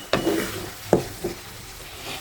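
Homemade mango pickle with vinegar is stirred in a pan, giving three scraping strokes of the spoon close by, the first two sharper, over a faint background and no talk.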